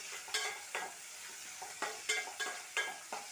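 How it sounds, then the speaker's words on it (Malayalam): Onion and green chillies stirred in a pan for a bitter gourd curry, a soft steady sizzle broken by a run of short scraping strokes roughly every half second, close and fairly quiet with no talking. "ഒന്ന് ഇളക്കി കൊടുക്കാം"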